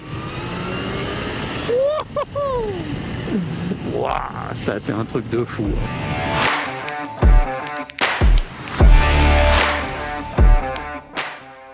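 A 2023 Kawasaki Z H2 SE supercharged motorcycle accelerating hard, its engine building in surging bursts with sharp revs and shifts, loud and close, while someone talks over it.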